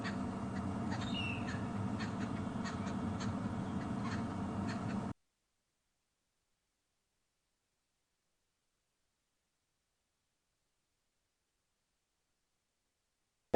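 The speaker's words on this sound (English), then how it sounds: "So that is the bird that you can hear." A bird calling during an evening safari drive, faint repeated calls over a steady low rumble, probably the vehicle, lasting about five seconds before the sound cuts to silence.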